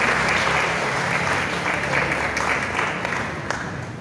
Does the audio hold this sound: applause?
yes